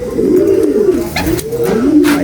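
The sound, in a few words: racing pigeons cooing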